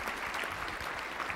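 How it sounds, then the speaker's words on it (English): Audience applause at a talk on breakthrough innovations, a short steady burst of clapping from a crowd that fills the whole moment, with no voices over it. "Give a round of applause as well."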